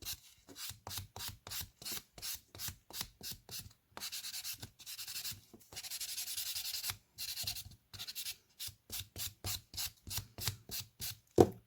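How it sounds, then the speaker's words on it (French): Nail polishing file buffed back and forth across a fingernail surface, a close, soft rasping in quick rhythmic strokes with a few longer continuous rubs in the middle, quiet and without talk. "on vient polir la surface de chaque ongle pour que le vernis adhère mieux et tienne plus longtemps"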